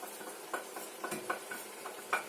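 Tempering being stirred into a pot of dal for an Ayurvedic meal: soft scraping and light clinks of a spoon sound at an uneven pace over a faint, steady sizzle, close and quiet.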